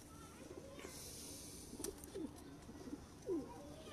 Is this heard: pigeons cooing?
yes